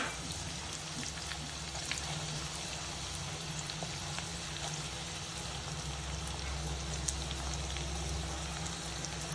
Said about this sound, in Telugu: ఇందులో నూనె కాగిన వెంటనే ఉల్లిపాయలు ముక్కలు వేసుకుందామండి